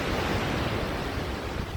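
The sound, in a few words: ocean waves on a beach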